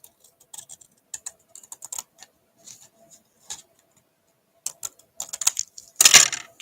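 Card stock is cut by hand in a crafting session, giving scattered light clicks and snips that end in a louder, sharper crunch, close by with no talking.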